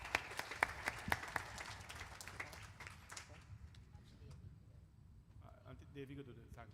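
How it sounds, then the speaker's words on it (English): Audience applause at a Hindu Bhagavat Katha religious gathering, fading from steady clapping into quieter room noise as voices take over toward the end. "Please give him a round of applause."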